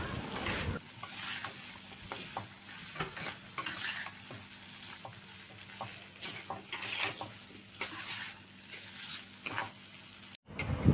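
Curry being sautéed and stirred in a pan with diced potatoes: a steady oily sizzle broken by repeated scraping, clanking stirs, close and fairly loud, with a brief drop in sound near the end.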